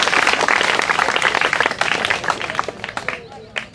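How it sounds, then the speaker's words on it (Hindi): A crowd at a village tree-planting launch event claps loudly and steadily, the dense applause thinning and fading toward the end with a few scattered final claps. "एक बार फिर से जोरदार तालियां"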